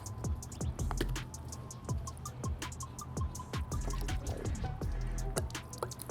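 LaCroix sparkling water fizzes and bubbles while sneakers are being cleaned, a steady close crackle with soft pops, drips and clinks over a low background hum.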